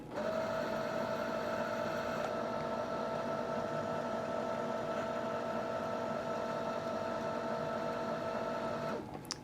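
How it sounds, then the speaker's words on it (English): A Brother sewing machine winds a bobbin with a steady, even mechanical whir and hum that runs for several seconds at a constant pitch, then stops abruptly near the end. "That tells the machine to wind the bobbin when you hit the pedal."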